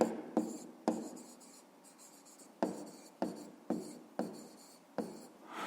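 Pencil writing by hand on paper: several short scratchy strokes, each starting with a sharp attack and trailing off, spaced irregularly, close and quiet.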